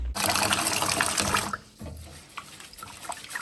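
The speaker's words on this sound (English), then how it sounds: "So let's wash the rice." Rice being washed in a pot of water, with a loud rushing gush of water filling the pot for about a second and a half, then quieter sloshing and small splashes as the grains are swirled.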